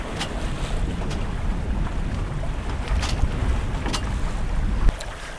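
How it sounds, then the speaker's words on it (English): A sailboat running downwind on a Finnish lake in October, with constant rushing wind buffeting the microphone over water wash and occasional knocks from the hull or rigging, no voices. "Couple of minutes for downwind sailing."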